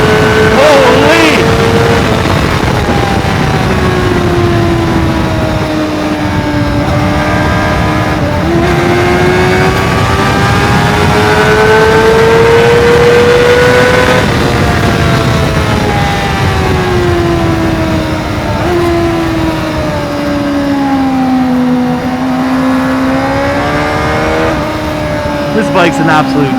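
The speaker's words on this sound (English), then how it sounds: "It wants to be revved really, really high up." A 650R sports tourer motorcycle engine revs hard and high, its pitch climbing and falling through the gears in one continuous loud, close drone with no pause.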